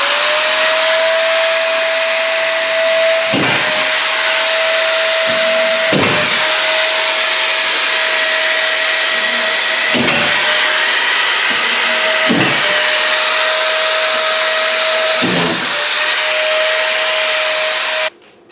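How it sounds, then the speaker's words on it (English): Hitachi Super Drive collated screw gun running at a constant high-pitched whine, broken by a sharp clack as each screw is driven, about six times at irregular intervals, loud and close with no talk. "so I use the Hitachi."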